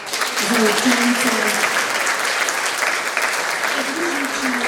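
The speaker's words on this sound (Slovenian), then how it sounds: "Še en aplavz za učence" An audience at a school awards ceremony applauds the students with sustained, even clapping, while a voice speaks over the hands part of the time.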